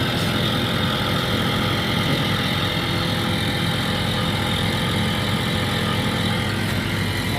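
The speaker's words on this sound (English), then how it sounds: "So this is blast freezer." FRC Hiber PCM05 blast freezer running with a steady, loud, unchanging mechanical hum and broadband whir, close by, no talk.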